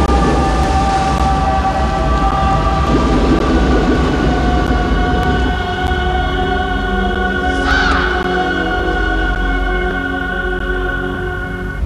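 A crow caws once, sharp and prominent, in a film trailer over a dense, loud droning rumble of music and low effects that continues throughout.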